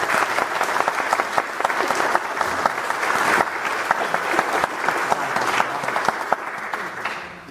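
An audience at a historical society event claps in a sustained round of applause, a dense, lively patter of many hands close by, holding steady throughout before tapering slightly at the very end.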